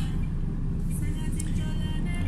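Truck slowing on its retarder without the foot brake, a steady deep low drone from the cab with faint higher hiss above.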